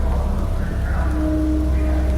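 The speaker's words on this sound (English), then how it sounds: "the rain pounding on the roof like a deafening drumbeat" Heavy rain pounds without a break on the roof of a train carriage, a loud, dense, unbroken roar that lasts the whole stretch.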